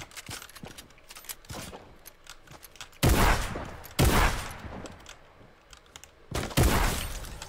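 Three loud, sharp gunshots in Fortnite ring out a second or so apart, preceded by softer pops and faint clicks.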